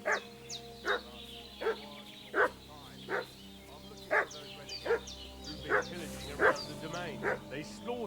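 A dog in the medieval video game Kingdom Come: Deliverance II barks in repeated short yips at a steady pace, moderately close, with faint ambient game sound beneath.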